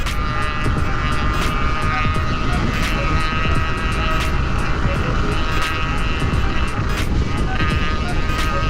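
A loud two-stroke motorcycle engine drones steadily, a high-pitched buzzing motor holding near constant, with a few sharp clicks and a voice briefly under it.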